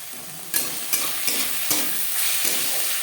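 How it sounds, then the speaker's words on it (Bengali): Fish roe being stirred in a pan with tomato, onion, salt and turmeric, with a steady sizzle broken by about six sharp spatula scrapes and knocks spaced roughly every half second. "লবণ হলুদ পেঁয়াজ টমেটোর সাথে বেশ ভালো করে মিক্স করে দেব"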